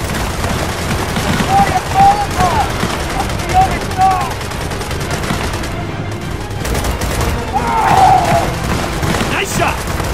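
Rapid automatic gunfire and explosions fill a Gears of War 4 firefight, a dense, loud barrage of shots with shouted voices mixed into the battle noise throughout.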